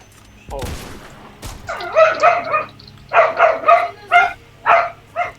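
A dog barks close and loud, first a few sharp yelps, then a rapid string of about eight barks in quick bursts.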